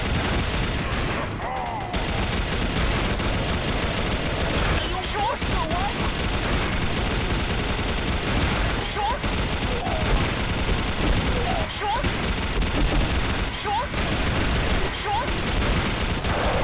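Continuous automatic fire from the MK5 machine gun in a shooter video game, a dense, loud roll of rapid shots running the whole stretch with only brief gaps.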